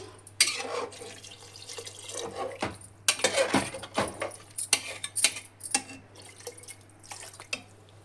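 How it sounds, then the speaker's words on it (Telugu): Water is poured into a pot of chicken pieces, splashing and trickling close by with clinks of the pot, irregular bursts over a low steady hum. "ముక్కలకి సరిపడా నీళ్లు పోసుకున్నానండి."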